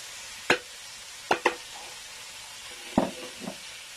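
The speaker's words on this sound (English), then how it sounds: "I'm going to leave it for a little bit for the meatball and the sausage to fry through" Meatballs and sausage frying in a hot pot, sharp spitting pops and crackles scattered over a faint steady sizzle, a few loud bursts standing out close by.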